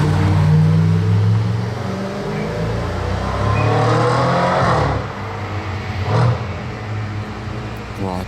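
A sports car passes close by under hard acceleration, its engine note rising and swelling aggressively, with roadworks and street noise in the background and another vehicle surging past near the end.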